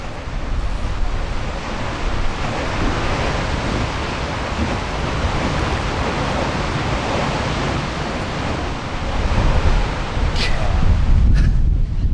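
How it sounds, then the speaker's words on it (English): Strong wind buffets the microphone in a constant heavy roar in Hsinchu, Taiwan, growing rougher near the end, with no voices. "it is windy here"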